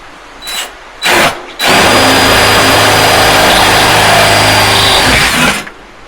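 Power drill boring a hole through the metal body of a Weber Smoky Mountain smoker: two short trigger bursts, then a loud, sustained high whine for about four seconds before stopping.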